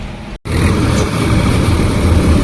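A tractor engine runs steadily on a trip hauling onions to Mahuva, a loud, close low rumble that cuts out for an instant near the start and then carries on unbroken.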